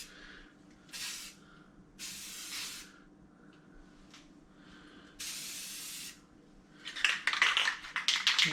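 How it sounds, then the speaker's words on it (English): A spray can hisses in several separate bursts of about a second each while painting the back of a fish tank, followed by rapid rattling sputters at the end, close and clear with no talk. "Not my first time painting the back of a fish tank."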